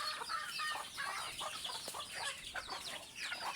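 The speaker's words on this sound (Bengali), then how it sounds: "খামারে দেশি মুরগিগুলোর খাবার খাওয়াচ্ছি।" Native chickens on a farm clucking while pecking at wheat feed at midday, a busy overlapping flock of soft clucks and chirps nearby, with no talk.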